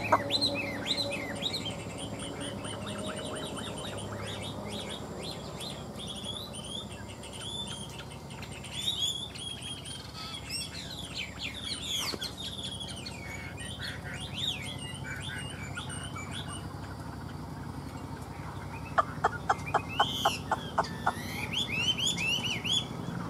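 A caged hwamei songbird sings a long, varied stretch of melodious whistles and chirps, fairly close and continuous, with a run of rapid repeated notes near the end.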